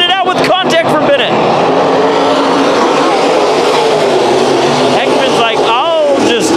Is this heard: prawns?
no